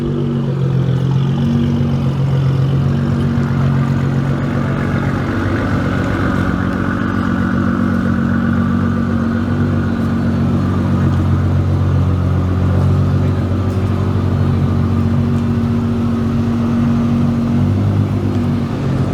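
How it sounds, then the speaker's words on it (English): A car at a car modification shop, its engine giving a loud, steady rumble that runs without a break for the whole stretch, close up and with no talking. "I need to move the car"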